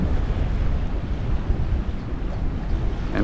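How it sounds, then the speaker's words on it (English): Waves break on Long Reef off St. Croix, heard from a sailboat anchored behind the reef as a faint, continuous wash of surf blended with wind buffeting the microphone. "You can see the waves crashing on the reef over there."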